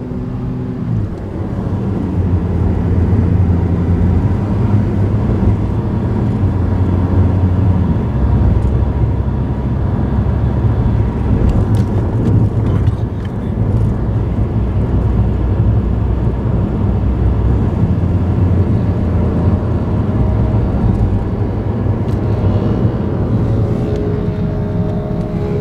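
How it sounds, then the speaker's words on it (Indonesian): A Honda Jazz GE cruises at 100 km/h with a continuous, loud underbody roar of tires on pavement, a broad, steady rushing drone with a low hum beneath, and no talking throughout. "Nah sekarang kita cobain jalan di kecepatan 100 km per jam ya. Kalian bisa dengerin suara kolongnya seperti ini."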